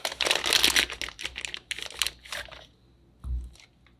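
A plastic piping bag crinkles and rustles loudly up close in dense bursts as it is pulled over a glass, then goes quiet before one last soft crinkle and thump.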